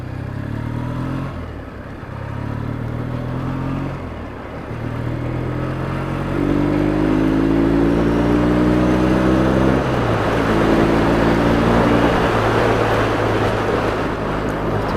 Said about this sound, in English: I hate the sound of the bloody airboxes on these bikes